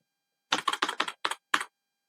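Six quick, crisp keystrokes tap out code on a close computer keyboard in a short burst with tiny gaps, surrounded by silence and no voices.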